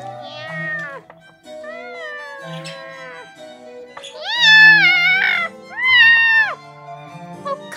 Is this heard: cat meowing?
yes